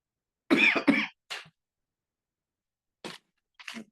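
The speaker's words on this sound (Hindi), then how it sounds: "एकदम जो है ना वो खांसी शुरू हो गई" A few short coughing bursts from a teacher in the middle of a lesson, two close harsh coughs followed by a softer one and then faint throat clearing after a pause.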